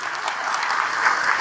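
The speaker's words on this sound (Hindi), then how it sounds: "एक बार इनके लिए भी जोरदार ताली बजाओ" A crowd claps loudly and steadily at a Patanjali Gurukulam gathering, a dense burst of applause that fills the whole moment without any speech on top.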